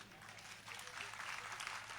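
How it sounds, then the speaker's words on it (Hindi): An audience at a Hindi poetry recital claps in scattered, unhurried applause, faint and distant, swelling slightly but staying loose and uneven throughout. "इतनी नींद में नशे भरी ताली बजा रहे हो आप"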